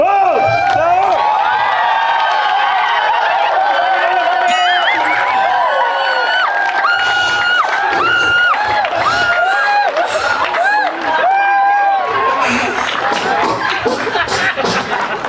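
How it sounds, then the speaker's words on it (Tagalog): Loud party crowd at a birthday celebration cheering and clapping, with shouts and laughter layered over music and voices throughout. "Palakpak!"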